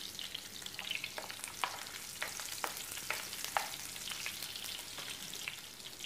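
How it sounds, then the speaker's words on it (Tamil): Chopped onions fry in hot oil for a traditional South Indian side dish, giving a steady close sizzle broken by occasional clicks of a spoon stirring against the pan, with no talking. "பொடி வெங்காயத்தை சேர்த்துட்டு மெதுவா வதக்கி விடுங்க"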